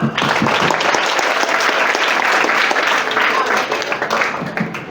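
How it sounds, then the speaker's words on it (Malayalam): Students at a school memory show give a big round of applause, dense and continuous clapping from a crowded hall that holds steady and then slowly tapers off. "Come on, say big clap."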